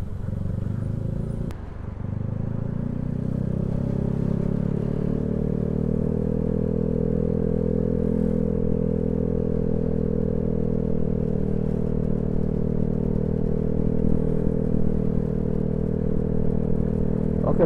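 A bored-up Honda BeAT Street scooter with a 130 kit and 26mm throttle body runs at top speed, giving a steady, droning engine whine with constant wind rush that barely changes throughout.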